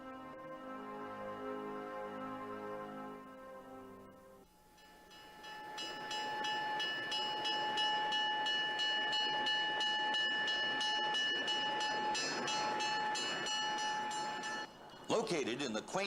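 A Conway Scenic Railroad tourist train in the valley near North Conway, New Hampshire, runs with a steady rolling rumble and a sustained tonal whine, while a voice talks over it.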